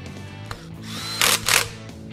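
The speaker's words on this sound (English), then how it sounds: "We'll get all the diff cover bolts tightened down" A power tool runs in two quick, loud bursts as it tightens the differential cover bolts on a truck rear axle, with a faint metallic tick just before them.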